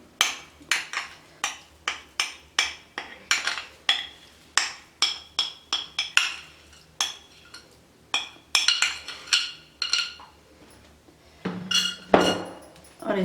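A spoon works through a hot mixture in a pan, giving repeated sharp metallic scrapes and clinks in a steady rhythm, close and fairly loud, with a brief heavier clatter near the end and no talking.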